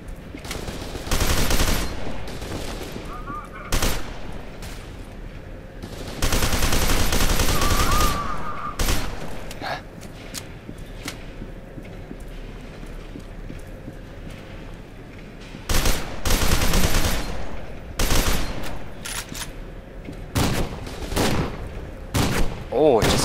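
Gunfire from the video game F.E.A.R. 2: a shotgun and other weapons fire in loud repeated bursts, some long and sustained, between quieter stretches of game ambience.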